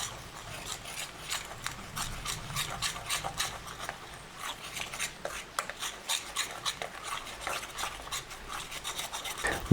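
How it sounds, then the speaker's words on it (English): A spoon stirs flour into banana puree for fritter batter, a steady, soft scraping and squishing rhythm close up, with no talking. "Use a spoon. Mix the flour in the banana puree."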